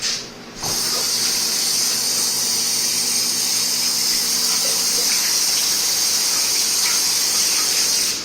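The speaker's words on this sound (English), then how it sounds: "you don't need a whole lot of water, just a little bit" Water runs steadily from a tap into a noodle pan in a continuous, fairly loud hiss after a brief quiet start.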